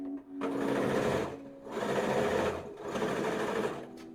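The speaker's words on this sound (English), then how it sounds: "I usually backstitch at the seam before and or after, just to reinforce it" A sewing machine stitches a seam in three bursts of rapid, even whirring, each lasting about a second, separated by short pauses, close and clear with no talk.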